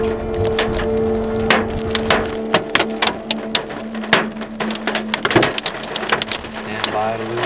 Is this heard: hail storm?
yes